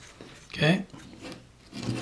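A knife shaves and cuts into a wooden caricature figure being carved by hand, with two or three short scraping strokes heard close and moderately loud against a quiet room.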